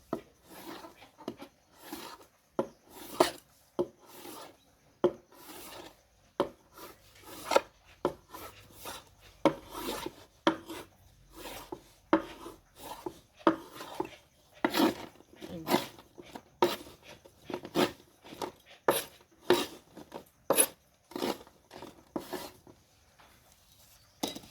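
A knife chops through pieces of fish with a quick, uneven rhythm of crisp cuts, close and fairly loud, with no voices.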